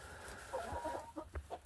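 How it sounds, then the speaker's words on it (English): Young roosters and chickens clucking softly nearby in a coop, a few short scattered clucks over a quiet background. "I got some young roosters in here"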